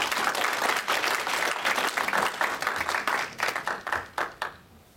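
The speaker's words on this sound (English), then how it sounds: "let's give him a big round of applause" Audience applause for a guest speaker at a live talk, dense clapping that starts loud and thins out toward the end into a few scattered claps before stopping.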